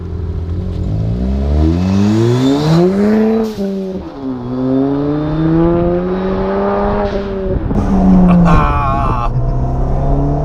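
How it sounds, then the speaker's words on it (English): A Ford Fiesta ST with a hybrid turbo and CPE exhaust accelerates hard at close range, its loud engine note rising through the gears with brief dips at each shift. "but I wanted something a little bit louder, so I got the CPE exhaust"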